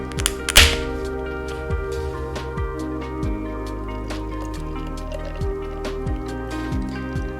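Hazy beer pours from a can into a glass, a steady close trickle and gurgle with a sharp clink at the start and faint drips throughout, no voices.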